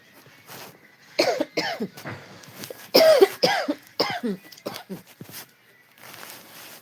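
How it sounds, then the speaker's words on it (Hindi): Someone coughs repeatedly in harsh bursts, several coughs close together, fairly loud and near, with a quieter stretch at the end. "खांसी बहुत आ रही है।"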